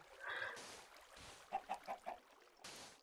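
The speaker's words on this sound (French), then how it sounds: "Puis on entend la poule encore, hein." Chicken in the video game Minecraft, a series of short, quiet clucks in a quick run of four, preceded and followed by brief soft rustling bursts.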